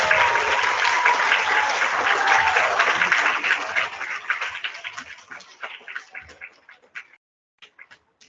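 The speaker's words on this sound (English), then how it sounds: "let's have a big round of applause for our perfect attendance" An audience claps loudly and densely at a first-grade school awards assembly, then the applause thins to a few scattered claps before stopping.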